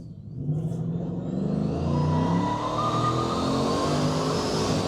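A ProCharger P-1X supercharged Coyote F-150 pulls hard at full throttle, its engine roar climbing steadily in pitch. A rising supercharger whine rides on top, loud and close, with no talking.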